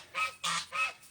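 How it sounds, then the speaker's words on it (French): Geese on a village farm in Thailand give three loud, close honks in quick succession, alone without talk. "Je voulais vous montrer les oies aussi."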